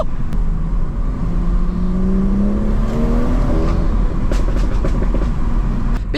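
A stage 1 BMW M240i rated at 420 bhp drives along, its engine and exhaust a steady, fairly subdued drone under constant road and tyre roar, with pitch slowly rising and shifting across the run.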